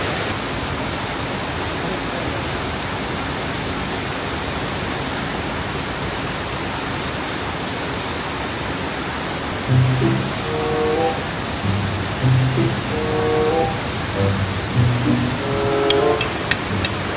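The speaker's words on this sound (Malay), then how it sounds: "Dia ada pecahan dua sungai." Water rushes loudly and continuously where two rivers meet in a forest campsite, a broad steady roar close by that fills the whole clip, with a few faint voices and brief knocks under it near the end.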